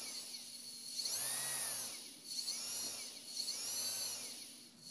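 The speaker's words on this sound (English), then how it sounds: "So this is the good motor." A Turnigy D3530/14 1100KV brushless outrunner motor, the good unit of the batch, runs steadily and smoothly with a high, even whine that swells and dips slightly in level, close up and with no talking.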